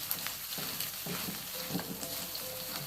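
Bay leaves, kaffir lime leaves and lemongrass sautéing in hot oil for chicken in sweet soy sauce, a steady close sizzle with soft stirring scrapes and no talk.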